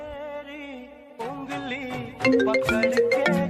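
A mobile phone ringtone plays in a home, a melodic electronic tune that starts as a sustained tone, then moves into a busier, louder sequence of notes. It rings alone with no talking.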